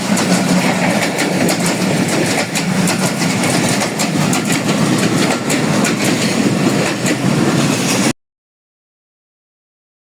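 A train rumbles past a railway crossing loudly and continuously, wheels clattering over the rails for several seconds before the sound cuts off abruptly.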